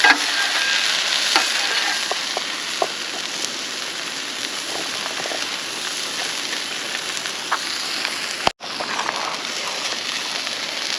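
A sausage cooks in a pan for a cinnamon roll breakfast sandwich, with a steady, close crackling sizzle and faint spatters throughout, briefly cut by a sharp pop and dropout near the end.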